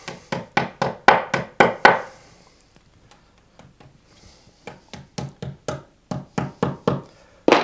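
Wall plugs hammered into a brick wall during an electric radiator installation: two bursts of sharp, rhythmic knocking blows, about six quick strikes, a quiet pause with a few light taps, then another run of around ten steady hits, close and loud.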